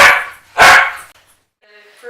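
A dog barks twice in short, loud bursts close by during a training session, followed by a quieter whine or whimper at the end.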